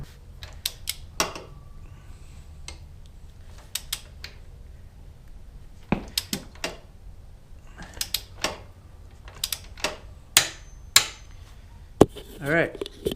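A torque wrench tightening a bolt during a linkage installation on a Yamaha WR250R motorcycle, with irregular sharp clicks and metallic taps spread throughout, fairly close in a quiet workshop.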